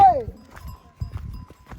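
Horse hooves clop along a mountain trail at Dhorpatan in a loose walking rhythm of close, dull thuds, while people talk over the steps.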